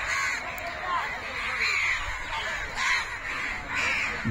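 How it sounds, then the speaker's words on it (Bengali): Crows caw in a rhythmic series of harsh calls at a mangrove-lined beach at Guliakhali, Sitakunda, near sunset, fairly close over a steady outdoor wash. "পাখির কলকবজাতে আশেপাশে মুখরিত হয়ে আছে।"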